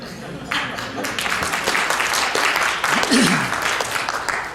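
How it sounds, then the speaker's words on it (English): Audience applause at a retirement party fills a room, rising after a short pause and holding steady, with voices talking and calling out over the clapping. "You don't have to clap."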